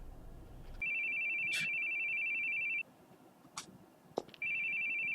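A telephone rings in two long electronic trills separated by a pause, steady and fairly loud in a quiet room, with a few faint knocks and rustles in between.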